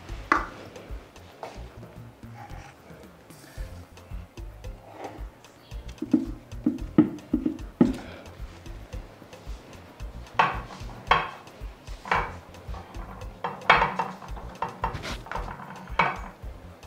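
Fufu is scooped into a bowl with repeated close clinks and scrapes of a spoon against dishes, irregular knocks and taps coming in quick clusters throughout.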